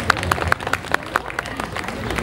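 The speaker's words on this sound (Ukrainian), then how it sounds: "Ваші оплески." An audience at a folk embroidery event applauds as a guest is introduced, a brief patter of scattered claps with crowd murmur underneath.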